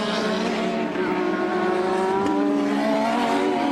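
Formula 1 cars at the 1986 British Grand Prix screaming past with a high, steady engine whine that shifts pitch slightly as they race, loud and continuous.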